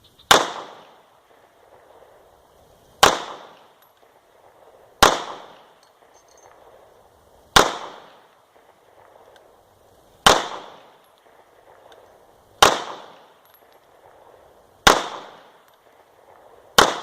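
Eight sharp pistol shots from a Beretta APX ring out one at a time, roughly every two to three seconds. Each crack is loud and close and fades into a brief echo, with nothing else heard.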